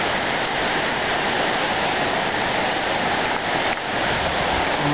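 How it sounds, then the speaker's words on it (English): A big waterfall high above a trail roars as steady, dense broadband rushing water, heard from a bridge below, loud and continuous for the whole stretch with no voices. "that's this big waterfall way up there"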